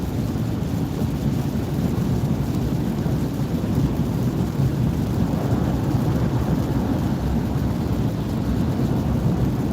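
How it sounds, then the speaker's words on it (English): Thunderstorm in southwestern Pennsylvania, with steady heavy rain and a continuous low rumble of thunder filling the scene, loud and close, with no voices. "it's our first thunderstorms in southwestern Pennsylvania this year"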